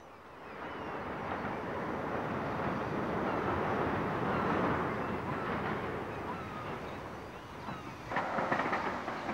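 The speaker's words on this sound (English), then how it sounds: "the train approaches Banavy and Corpach on the Caledonian Canal" A British Railways train near Banavie and Corpach by the Caledonian Canal in Scotland runs with a steady rolling rumble and rhythmic clatter, easing a little before a brighter burst near the end.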